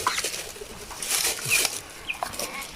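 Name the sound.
chickens clucking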